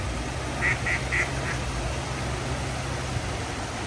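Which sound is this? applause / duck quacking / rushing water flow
duck quacking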